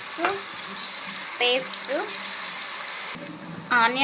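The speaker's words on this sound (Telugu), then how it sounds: "అల్లం వెల్లుల్లి పేస్ట్ వేసి మంచి బ్రౌన్ కలర్ వచ్చే వరకు అయితే వేయించుకోవాలి" Onion, green chilies and ginger-garlic paste fry in a pan for a crab curry, a steady close sizzle with occasional stirring scrapes and brief bursts of whistling or squeaky sounds over it.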